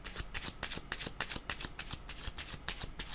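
Tarot cards shuffled by hand in a steady run of rapid riffling flicks, close and crisp, with no voice over them.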